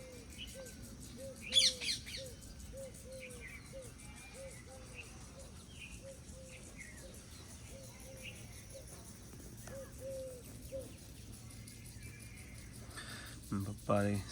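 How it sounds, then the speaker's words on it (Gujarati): Morning birdsong in a natural outdoor setting: small birds chirp and tweet in repeated short calls over a soft steady background, with a few louder bursts near the start and end. "પક્ષીઓના બધા અવાજ સંભળાય."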